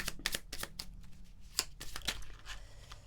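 Oracle cards being shuffled by hand for a tarot-style reading, close papery riffles and slaps in quick irregular bursts with crinkly rustling, no voices.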